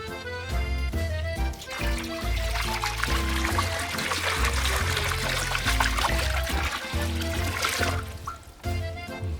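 Water pours steadily into a cooking pot, about six and a half litres, for boiling a three-kilogram wood grouse. A continuous splashing gush runs throughout, fairly close and moderately loud, with no talk.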